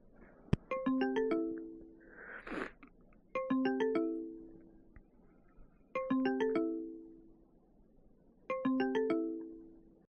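A phone rings out on a free call to an unresponsive food delivery customer: four repeated electronic ringtone bursts of rising chimes, clear and alone, spaced evenly with quiet gaps between them.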